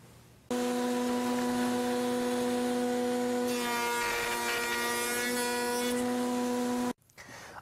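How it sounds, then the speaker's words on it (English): A router table fitted with a Freud adjustable rail and stile bit cuts stub tenons on the rail ends of a raised panel door, a loud steady high-pitched whine with a rougher cutting texture midway that runs unbroken before cutting off abruptly. "I've finished routing the ends of all my rails to produce the stub tenon."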